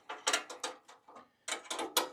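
Nylock nuts being tightened by hand tool on a Jeep Wrangler JK tailgate table, a series of close, quick ratcheting clicks in bursts with a brief pause midway.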